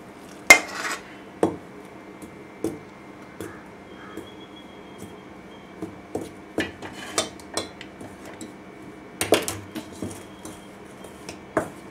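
A spoon mixing roasted gram flour with ghee in a metal pot for a sweet snack, producing a series of irregular sharp clinks and scrapes against the vessel, close and clear over quiet background.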